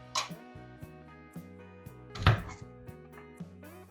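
Garlic chopped with a knife on a board, a handful of separate crisp taps spaced unevenly, plus one louder knock, heard over quiet background music.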